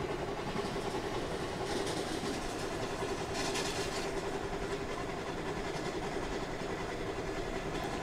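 A steady, continuous rumble of a train running along the track in Indian Train Simulator (MSTS) on a Jabalpur–Bandra Terminus superfast special, with a constant engine drone and faint rhythmic rail clatter throughout.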